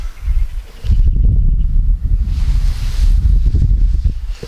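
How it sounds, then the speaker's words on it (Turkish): Steady outdoor wind rumbles and buffets the microphone, a low continuous roar with gusty swells and no talking, during light-rod fishing outdoors. "Havada hafiften zaten rüzgar çıkmaya başladı"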